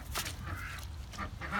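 Ducks quack in a flooded, muddy backyard, several short calls scattered across the moment over a steady low rumble of wind or rain noise.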